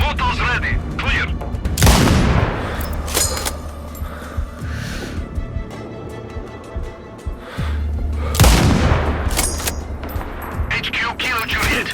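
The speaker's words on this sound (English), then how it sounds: "Tango under mortar fire." Mortar fire in the video game Sniper Ghost Warrior Contracts 2: two heavy, loud booming impacts several seconds apart over a rumbling battlefield bed, with radio-style voices in between.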